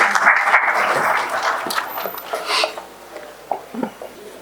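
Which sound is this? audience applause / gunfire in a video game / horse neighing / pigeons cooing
audience applause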